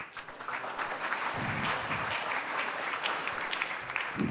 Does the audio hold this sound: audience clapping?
yes